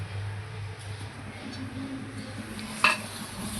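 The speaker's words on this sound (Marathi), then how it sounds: "तर आपण आता त्याच्यावरती तवा ठेवूया मसाला भाजायला" Spice mix roasts on an iron griddle over a gas flame for stuffed brinjal, a quiet sizzle and stirring over a low burner hum, with one sharp metallic clink near the end.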